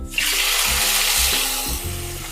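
Tomatoes land in hot oil with cumin seeds and whole and green chilies for aloo sabzi, setting off a loud, dense sizzle close by, with a low rumble and stirring noises underneath.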